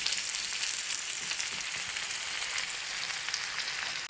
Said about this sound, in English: I'm going to let this all break down, get some color to it